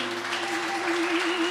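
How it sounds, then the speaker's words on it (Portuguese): Church congregation applauding during an Easter worship service, a steady wash of clapping over a sustained held musical tone. "Da un fuerte aplauso, Señor Jesús."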